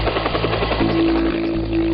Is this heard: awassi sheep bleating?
no